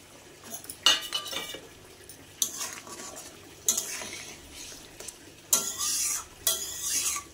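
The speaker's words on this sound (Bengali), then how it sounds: "দেখো এখন আমি মাছগুলো দিয়ে দিচ্ছি।" Tangra fish pieces going into a bubbling potato curry in a pan, with repeated bursts of sizzling, stirring scrapes and utensil clinks separated by quieter simmering, no voices.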